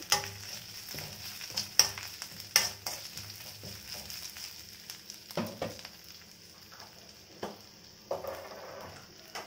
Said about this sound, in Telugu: అల్లం వెల్లుల్లి పేస్ట్ వేసిన తర్వాత మాడిపోతూ ఉంటుంది, కదుపుకుంటూ ఉండండి.